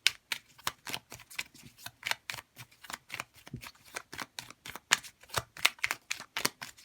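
Oracle cards being shuffled by hand, a quick run of crisp riffling snaps and soft slaps repeating steadily and close up, with no voices.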